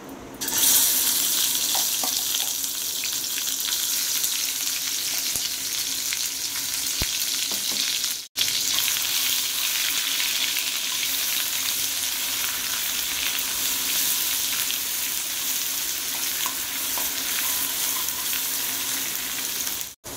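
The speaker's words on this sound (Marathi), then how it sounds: "आपलं तेल गरम झालंय, आता आपण त्यामध्ये वाटण टाकूया।" Masala paste frying in a little hot oil with cooked mutton for sukka mutton, a steady loud sizzle with stirring, continuous for the whole stretch apart from two very brief dropouts.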